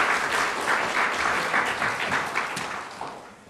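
A church congregation gives a pastor welcoming applause, a steady roar of many hands clapping that slowly fades toward the end.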